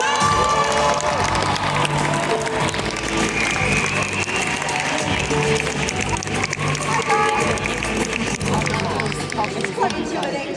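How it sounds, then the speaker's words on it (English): A large audience at the opening ceremony of the FIRST Tech Challenge UK Championship breaks into loud, continuous applause and cheering, mixed with shouts and crowd chatter that fill the whole space. "Round of applause!"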